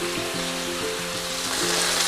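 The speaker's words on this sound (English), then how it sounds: "Now while the chicken is frying" Chicken shallow-fries in a pan with a steady close sizzle and spatter, while faint tonal hum lines run underneath throughout.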